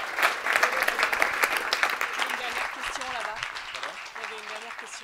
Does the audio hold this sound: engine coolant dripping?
no